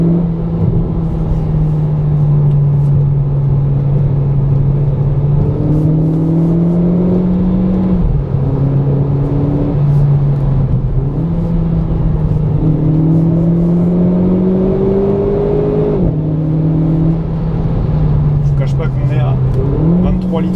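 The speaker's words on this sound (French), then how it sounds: "La voiture bouge bien" A Renault Clio 4 RS Trophy 220 drives on small country roads, its engine note rising and falling through repeated gear changes in a loud, continuous in-cabin drone, while someone talks over it.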